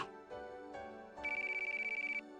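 A phone rings with an incoming call in a quiet room: a few soft tonal chimes step upward, then a bright, rapidly pulsing ringtone trills steadily for about a second before cutting off.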